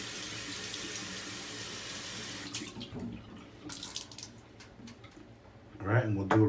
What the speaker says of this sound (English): Let me rinse out my brush here.